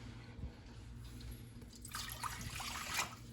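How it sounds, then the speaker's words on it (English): Water trickles and splashes steadily into a small saucepan, growing a little louder and brighter toward the end, with a low hum underneath. "To that, we're going to add 2 cups of water."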